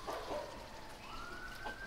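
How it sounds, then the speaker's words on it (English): A siren wails in the distance, a faint rising tone steady beneath background noise, with no voices present. "The thing that gets me about the siren."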